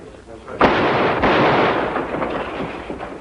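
Tear gas shells launched toward a building, a sharp loud boom followed by a sustained rumbling roar with a second thump, lingering noisy blast fading over a few seconds.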